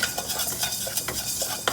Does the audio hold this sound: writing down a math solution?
no